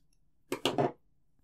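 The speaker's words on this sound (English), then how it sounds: "So go ahead and cut your yarn" Scissors snip through crochet yarn in a few quick, close cuts lasting under half a second, with quiet room tone before and after.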